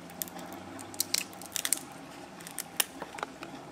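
Spider crab shell being bitten and cracked while eating, giving small sharp crunches and snaps at close range in an irregular scatter, quiet overall with no talking.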